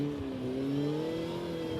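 Ariel Atom 3 5R race car accelerating hard, a loud, steady engine note with clear rising harmonics held close and continuous for under two seconds, no voices.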